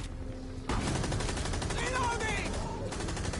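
Gunfire rakes the floor in Rainbow Six Extraction, a loud burst of rapid shots beginning abruptly and holding steady for several seconds, with voices faintly in the background.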